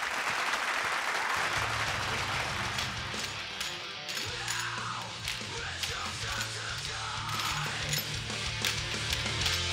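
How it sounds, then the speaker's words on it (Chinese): Loud, continuous audience applause on a TV variety show welcomes retired honor guard performers, with whoops and yells mixed in across the whole stretch. "欢迎，掌声欢迎。"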